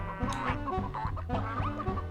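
Chickens cluck over a steady rhythmic game soundtrack in Bubsy, with short pulsing calls recurring every half second or so at moderate loudness.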